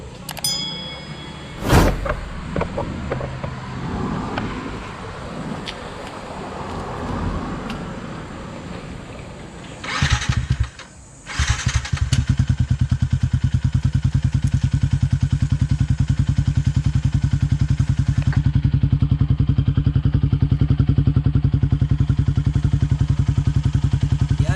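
A Yamaha Sniper 150 motorcycle with a Yoshimura Alpha pipe and silencer starts with a few clattering bursts, then settles into a steady, muffled idle with a low, even drone.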